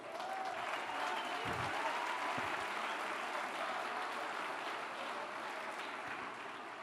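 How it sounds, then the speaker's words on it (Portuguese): A church congregation applauds during a Portuguese-language sermon, a dense, sustained roar of many hands clapping at once that stays loud and even for several seconds across a large room. "vamos aplaudi-los."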